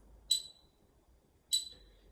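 Two sharp, bright metronome clicks about 1.2 seconds apart, isolated against near silence in a slow, steady pulse.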